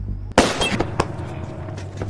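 A single sharp gunshot in a film scene, a loud close crack followed by a short echoing tail and faint rattling aftersound.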